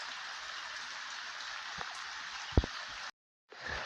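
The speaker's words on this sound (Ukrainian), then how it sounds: "уже і в нас дощ пере" Steady rain hisses down in the Liubar area of Ukraine, with a couple of heavier drips landing nearby, before a brief silence and the rain returning.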